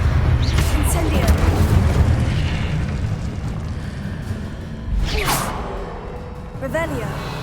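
Incendio fire spell bursting in Hogwarts Legacy, a loud whooshing boom with rumbling flames over several seconds, followed by a second surge of roaring fire, with character voices heard alongside.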